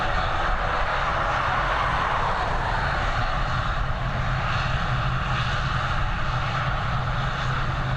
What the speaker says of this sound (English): Next up, we're going to have an ATR 72-600 on departure with the old Aer Lingus livery.